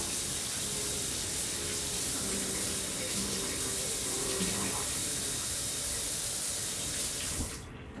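Running tap water pours continuously while a kitchen knife is washed under it, a steady close rush with faint talk beneath, easing off at the very end.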